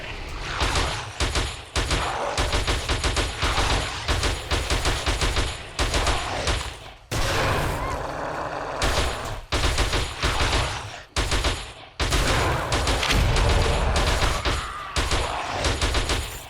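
Dense rapid fire from a G36 assault rifle loaded with armor-piercing rounds in the survival game 7 Days to Die, loud sustained bursts with only brief pauses, close and dominating throughout.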